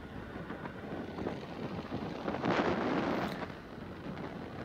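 Strong wind gusts across the microphone on an open road between Salem and Edappadi, a broad rushing roar that swells near the middle and then eases, with no voices.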